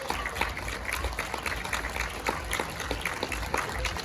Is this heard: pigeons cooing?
no